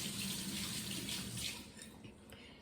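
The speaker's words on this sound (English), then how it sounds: "let me rinse my hands off." Tap water runs steadily into a sink as hands are rinsed, a close, continuous hiss that eases slightly near the end.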